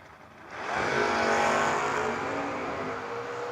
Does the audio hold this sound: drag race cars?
yes